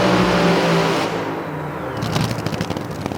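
A nitro-fuelled AA/Fuel nostalgia dragster thunders down the strip at an NHRA drag race, a huge roar that drops into a rough, crackling, popping rumble as the car shakes its tires and the driver lifts.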